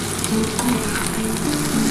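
Fish fat crackles and sizzles steadily in hot oil, with sharp pops scattered over a continuous frying hiss, close and fairly loud.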